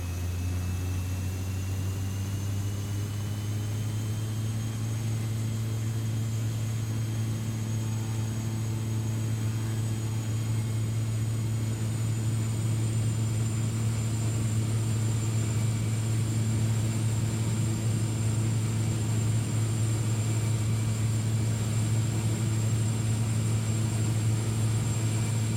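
A Milviz DHC-3T Turbo Otter turboprop in X-Plane 11 runs a steady, loud engine drone with propeller hum and a faint rising whine as it takes off, sounding alone without talk.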